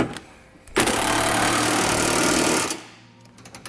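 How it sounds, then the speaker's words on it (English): A power tool with a 3/4 inch socket tightens trailer hitch hardware on a 2009 Honda, a loud buzzing whir lasting about two seconds before winding down, with faint clicks around it. "Go ahead and tighten all of our hardware up."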